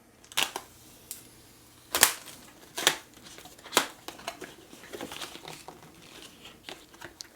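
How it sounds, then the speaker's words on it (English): Packaging for an Apple Watch Series 6 in graphite stainless steel, 44mm, is torn open: several sharp ripping and crinkling bursts with pauses, then softer rustling and handling of the box, close and fairly quiet. "let's tear it open and see what we find out here"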